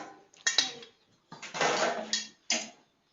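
Bowls and dishes clatter in a few short, bright bursts with brief pauses between them, close by and fairly quiet, with no talking.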